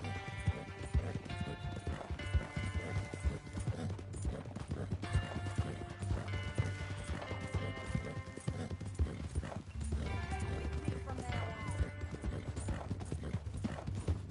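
Steady clip-clop of horse hooves plodding along at a walking pace, continuous throughout, with a soft musical drone underneath.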